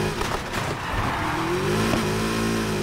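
Ferrari F40 engine in the racing game Need for Speed Heat, revving and climbing in pitch through gears, a loud, close, continuous rasp with a brief dip and rising whine, no talk over it.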